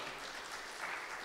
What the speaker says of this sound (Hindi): क्यों ना जोरदार तालियों के द्वारा उनको हम स्वागत करें।